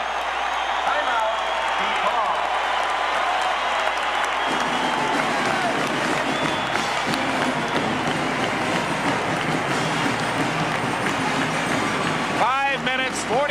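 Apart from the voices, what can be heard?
basketball arena crowd cheering during college game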